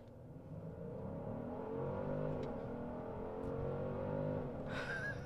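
A twin-turbo 2023 Genesis GV70 petrol SUV in sport plus mode pulls hard, its engine note rising and falling in steady harmonic sweeps, loud and close, a whooshing burst near the end.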